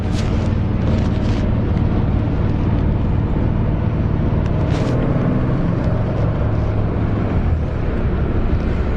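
A Chevrolet Corvair's six-cylinder engine drones steadily during a ride, a loud continuous low rumble with road and wind noise and a few brief rattles, heard from inside the car without talking.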